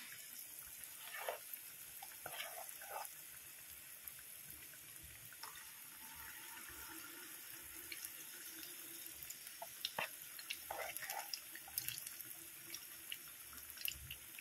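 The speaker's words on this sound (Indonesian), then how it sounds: "Nah, ini masih proses menggoreng." Banana fritters for honey pisang goreng sizzle in hot oil, a faint, steady hiss with small crackles and pops scattered throughout.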